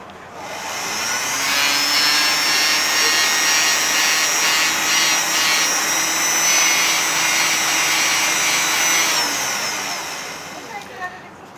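A steady high whirring grind from a fine sanding wheel of about 400 grit on fire agate runs for about eight seconds, starting and stopping smoothly, fairly loud and close.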